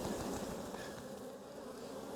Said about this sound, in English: So I'm going to shake the bees off.